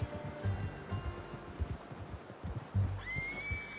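A horse whinnies with a rising, drawn-out call near the end, over soft hoof thuds and quiet ambient noise.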